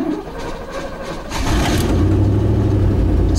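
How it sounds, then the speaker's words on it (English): A Chevy engine starts up and settles into a loud, rough, rumbling idle with a raspy exhaust note from a worn-out exhaust, close by with no talking. "It's a little loud, the exhaust is shot."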